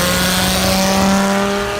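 A 1992 Dodge Viper RT/10 engine revs in a steady, loud, close drone with a strong low rumble that holds evenly for a brief moment, with no talking.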